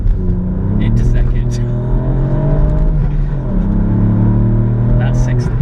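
Hard launch of a tuned hot hatch, a Golf R or REVO-tuned Fiesta ST, engine roaring loud and close with rising revs through a gear change and wheelspin, heard from inside the cabin, with people talking over it.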